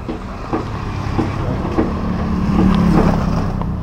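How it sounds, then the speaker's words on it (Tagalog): A roofed motor tricycle with a tarpaulin cover idles as it is parked, giving a steady, loud engine drone with faint periodic knocks, close to the microphone and without talk. "Pagarahe lang yung tricycle natin, mga idol."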